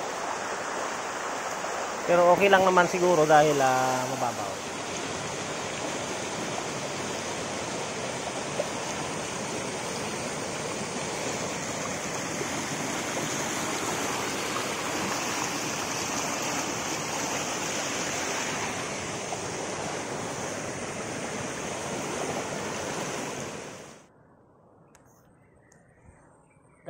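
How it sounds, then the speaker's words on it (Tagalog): A river's strong current rushes and churns steadily at a shallow swimming spot, a continuous loud wash of flowing water, with someone speaking briefly over it near the start before the sound cuts off. "yung lakas ng agos."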